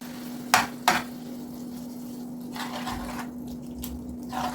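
Onion, carrot and tomato paste fry in a pan with a soft, steady sizzle, broken early by two sharp clinks of a utensil against the pan and later by quieter stirring.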